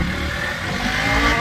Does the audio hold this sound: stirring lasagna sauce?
no